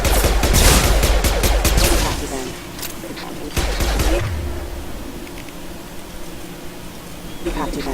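Gunfire in the Mass Effect 2 video game during a combat firefight: rapid bursts of shots, heaviest in the first two seconds, then scattered single shots under background game noise and voices.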